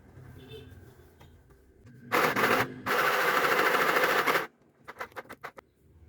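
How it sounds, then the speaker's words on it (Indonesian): A portable mini sewing machine stitches a pillowcase in two loud, fast mechanical bursts of steady rattling, followed by a few short clicks and taps, with quiet pauses around it. "Yang ini aku jahit balik juga biar kenceng."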